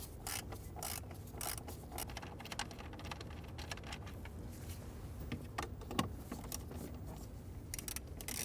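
Ratchet loosening 7mm screws inside a 1994-2004 Ford Mustang, giving rapid, steady clicking that runs throughout, close and fairly quiet with no talking.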